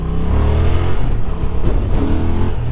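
Honda XL750 Transalp 2024 motorcycle engine in standard riding mode, a loud, close, steady engine drone with rising and falling revs throughout, no talking.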